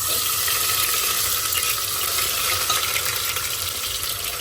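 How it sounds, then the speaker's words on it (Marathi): Ground masala paste hitting hot oil with bay leaf and garam masala for a Maharashtrian mutton rasa sets off a loud, steady, close sizzle that fills the whole stretch without pause or talk. "हे जे वाटण केलेलं तर हे पण टाकून देते तेलात"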